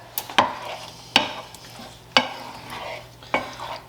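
Pasta being stirred into vodka sauce in a pan, with several sharp scraping knocks of the spoon against the pan spaced about a second apart over a soft background sizzle.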